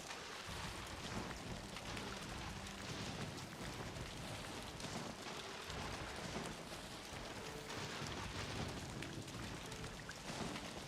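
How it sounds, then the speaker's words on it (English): Steady, dense rain hisses without pause in the Disney Dreamlight Valley video game, a continuous soft wash of falling water with no voices over it. "That rain is so loud."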